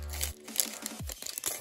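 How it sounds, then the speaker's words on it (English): Crinkly foil rustling and tearing of a Pokémon trading card booster pack being opened by hand, close and brief, with a few crunchy crackles and short bursts of wrapper noise. "the rustling of the pack"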